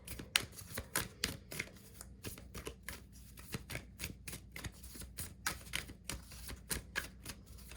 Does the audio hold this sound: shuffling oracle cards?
yes